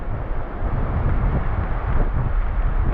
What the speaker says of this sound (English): Thought the wind was going to die down a bit, but it's only going to get stronger.